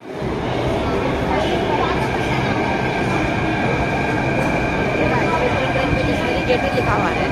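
A Delhi metro train at a station, with a loud, steady rumble of the train and carriages and faint high tones running over it throughout, at close range with no clear breaks.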